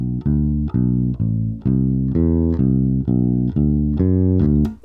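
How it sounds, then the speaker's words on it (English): A simple walking bass line on bass guitar, steady stepping notes about four per second, each clearly plucked and sustained, played alone and close with no talking. "So you can make this into a really simple, cool walking bass line, which sounds like this."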